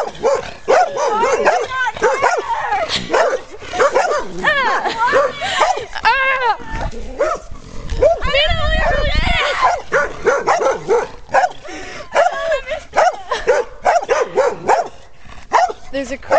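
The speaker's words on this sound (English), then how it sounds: "There's a crazy dog right there." A dog barks, yips and whimpers repeatedly at close range while someone talks over and between the barks.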